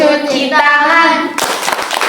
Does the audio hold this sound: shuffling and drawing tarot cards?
no